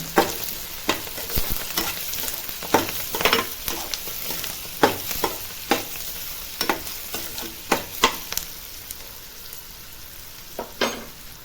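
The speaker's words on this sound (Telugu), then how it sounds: "పెసరపప్పు అండి హాఫ్ కప్పు కూడా వేస్తున్నాను కలుపుకుందాం" Panaganti leaves, onions and moong dal fry in a pan while a spatula stirs them. A constant sizzle runs under repeated sharp scrapes and clanks at an irregular, brisk rhythm.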